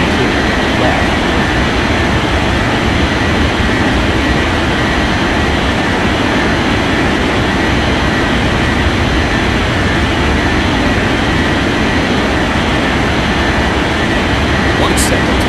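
Airliner jet engines roaring steadily during takeoff in the air traffic control game Unmatched Air Traffic Control, a loud continuous broadband rumble that holds at constant level throughout without any audible talk.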